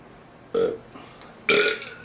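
A person lets out two short, loud, close burps about a second apart, each a throaty rumble, with nothing else around them.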